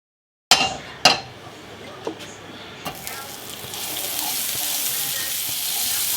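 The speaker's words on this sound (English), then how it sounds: "I have that pan on low heat. I put 2 tablespoons of butter in there." Two tablespoons of butter in a pan over low heat start with a couple of pan clinks, then build into a soft, steady sizzle that grows and holds.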